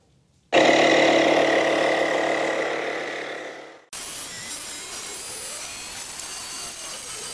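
A Lokithor jump starter and tire inflator pumps air into a motorcycle tire, a loud steady motor drone with a buzzing whine that runs for about three seconds before cutting off abruptly, followed by quieter ambient hiss.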